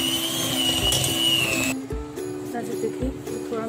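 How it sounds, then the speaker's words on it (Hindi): Electric hand beater whirring steadily as it creams butter in a bowl for eggless watermelon butter cookies, a close mechanical drone with a brief pitch change midway and a few soft bumps. "इसको हम बीट कर लेंगे इस तरह से, मक्खन को पहले अच्छी तरह हम थोड़ा थोड़ा इस तरह मिक्स कर लेंगे"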